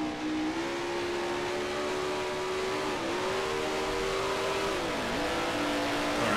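Vintage Grand Prix race car engine from the Grand Prix Legends sim, a steady loud drone holding pitch with brief dips as the revs drop, then climbing again, no talk.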